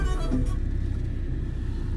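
A car rolls along a road on a trip from Wayanad toward Ooty, a steady low engine and tyre rumble close by with no talk, constant in level throughout.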